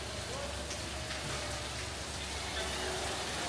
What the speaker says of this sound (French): on entend genre là le bruit de la pluie